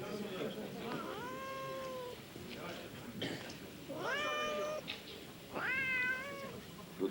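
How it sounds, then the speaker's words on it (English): Cats kept in the cells of a Russian prison meow several times, with long, drawn-out, rising and falling cries at moderate distance over a low murmur of background noise. "The prisoners have the cats."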